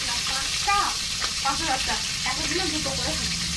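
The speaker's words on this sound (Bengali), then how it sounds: "তাড়াতাড়ি মাছ ভাজা কর" Steady sizzling of fish frying in a hot pan, a constant hiss with occasional pops, while people talk nearby over it.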